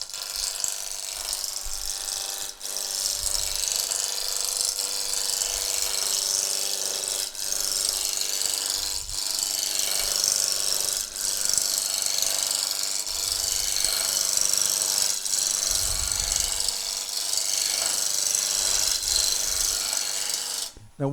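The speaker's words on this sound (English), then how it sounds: "So now I can start roughing down. So we go back with a roughing gouge" Wood lathe turning a spindle while a roughing gouge cuts it down, a continuous hissing, rasping shear with steady rotational hum and periodic knocks, close and sustained throughout.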